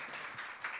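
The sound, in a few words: audience applauding to welcome a speaker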